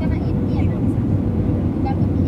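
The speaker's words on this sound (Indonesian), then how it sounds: "Flight attendant be seated for landing." An airplane cabin during the landing approach fills with a steady low rumble of engine and airflow, while people talk over it.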